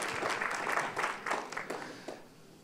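A conference audience gives a short, moderately distant round of clapping, dense at first and then thinning out over a couple of seconds.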